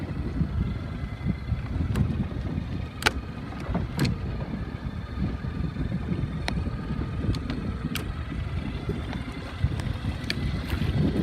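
A 29er racing sailboat moving in light wind gives a steady low wash of water and wind noise, with occasional sharp clicks and knocks from the rigging or hull scattered throughout.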